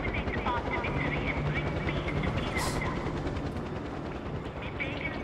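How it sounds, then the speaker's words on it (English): A helicopter in the video game Far Cry 4 drones steadily with a throbbing rotor under the game's background noise while someone talks over it. "That helicopter is distracting me."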